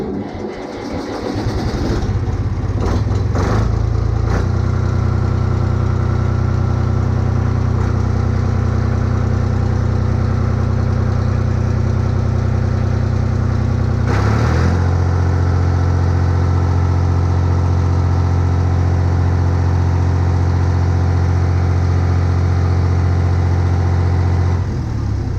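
A Renault diesel engine catches at once and settles into a steady, loud idle, its low rumble holding evenly for over twenty seconds after a brief rough start.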